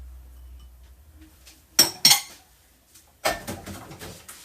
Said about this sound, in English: in this bowl, which is going to be my final mixing bowl, we're just going to add in them cheeses